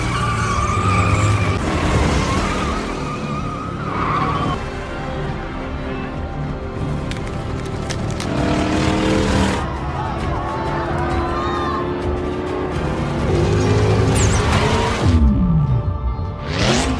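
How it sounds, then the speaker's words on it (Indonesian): Cars racing in a street race scene from a film, with loud tire squeals, skids and engine roars sweeping past, mixed with music and bursts of crowd noise, dense and close. "balapan kemudian dimulai dan Raldo berhasil mendapatkan keunggulan"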